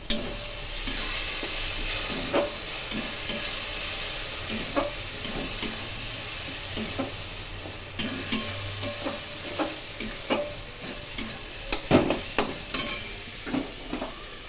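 Mutton pieces with a split bay leaf are stirred in a hot pan, producing a constant sizzle broken by repeated clacks and scrapes of the spoon at an irregular pace.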